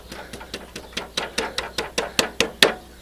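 About fourteen sharp metallic taps knock a tool into alignment against a carbide-tipped saw blade, evenly spaced and growing slightly louder, close up with no talking.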